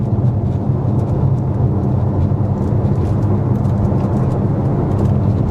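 A Ferrari station wagon climbs a canyon road, its engine a loud, steady broadband roar with heavy wind and road rumble throughout, no talking.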